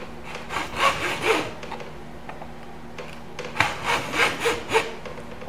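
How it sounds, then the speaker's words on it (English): A saw cuts frets out of an American Stratocaster fretboard in short rasping bursts of strokes, close up, separated by pauses, with no voices. "As long as you hear that noise, you know you're cutting the fret."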